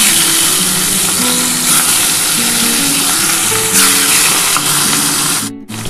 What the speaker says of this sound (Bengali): আমার কিন্তু এই 4 পিস মাছও ভাজা হয়ে গেছে